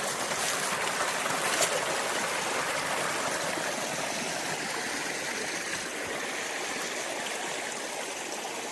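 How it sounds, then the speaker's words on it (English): A shallow stream runs beside a bridge crossing on the Broad River Greenway trail, giving a steady, continuous rushing and gurgling that stays close and even throughout, with no talking. "Heard some water running, saw a bridge that goes across."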